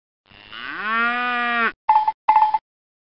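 A cartoon cow moos once in Bailey's Book House, a children's PC learning game, one long drawn-out bellow followed by two short chiming tones, loud and clear with no talk over it.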